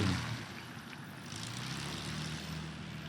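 A STOL aircraft's engine runs at takeoff power during a short takeoff and landing competition, a steady distant propeller drone that starts a little louder and then holds level, with no talk.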